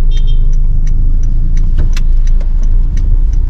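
An SUV heard from close by, its steady low engine and road rumble filling the scene, with light clicks and taps scattered over it and no talking.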